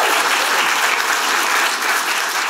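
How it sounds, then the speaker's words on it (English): A comedy show audience gives loud, continuous applause, a thick wash of clapping hands with faint crowd noise, steady from start to finish. "You're going to give him a huge round of applause."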